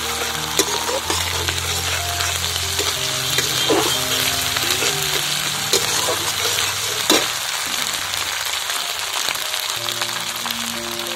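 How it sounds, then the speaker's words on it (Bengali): Eggplant frying with cumin-chilli paste and a little ginger paste makes a loud, continuous sizzle in the pan, broken by occasional scraping stirs and clicks of the spoon, close up and without talk. "দিয়ে একটু ভালো করে নাড়াচাড়া করে নেব"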